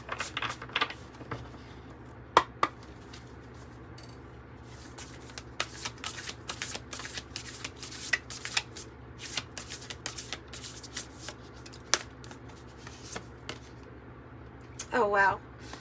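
White Light Oracle cards are shuffled in repeated quick riffling bursts, a dense run of papery flicks and snaps throughout, ending in a louder shuffle.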